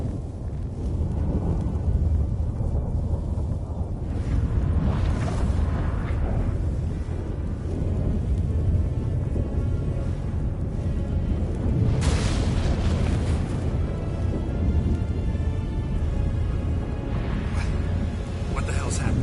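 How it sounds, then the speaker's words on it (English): Storm thunder in The Witcher 3: Wild Hunt, deep booming rumbles and sharp cracks rolling over a steady roar of wind, loud and continuous, with voices talking over it. "That a storm?"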